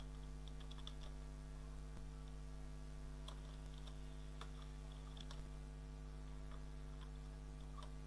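Fingers type on a computer keyboard while writing a Python script on a Windows 11 PC, giving scattered faint key clicks over a steady mains hum.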